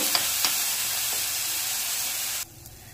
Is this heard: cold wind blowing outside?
no